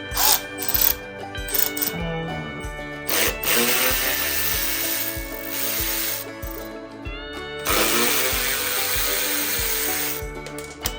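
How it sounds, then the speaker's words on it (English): A power tool works on the shroud of a Snapper AWD push mower in bursts of whirring, with short pauses and metallic clicks between runs, close and fairly loud. "we need to take this shroud off just to make sure it's not loaded with grass"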